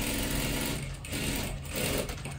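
Sewing machine double-stitching tucks less than half an inch wide on a kurti top, a loud close continuous whirring motor with the fast needle chatter of stitching, unbroken and with no talk.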